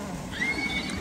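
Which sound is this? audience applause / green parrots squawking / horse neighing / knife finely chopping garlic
horse neighing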